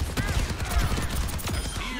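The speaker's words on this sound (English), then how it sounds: "Rocket barrage incoming." Dense, rumbling barrage of explosions and rapid fire from a rocket barrage ultimate in Overwatch 2, a continuous loud wash of blasts with no talking over it.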